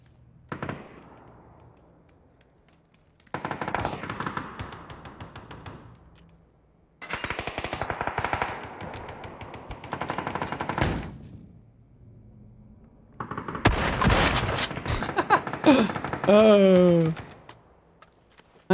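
Rapid automatic gunfire in the PUBG video game on the Haven city map, loud bursts of machine-gun fire in several separate long volleys with short pauses between, and a player talking over it.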